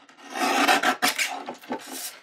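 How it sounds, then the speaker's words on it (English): A Tim Holtz paper trimmer in black slices through cardstock, making a close, continuous rasping blade stroke that comes in a few short pushes with no one talking. "So I'm going to trim this piece down to mat nicely."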